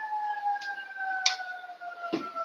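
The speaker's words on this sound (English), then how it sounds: "You definitely should be able to hear that, the sirens." A distant siren wails in a steady, drawn-out tone, with a few faint knocks and clicks nearby.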